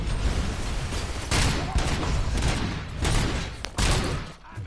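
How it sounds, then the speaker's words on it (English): Grenades exploding in the Robocop video game, a run of loud, dense booms and blasts following one another over sustained noisy gunfire. "They're throwing grenades and I don't have any."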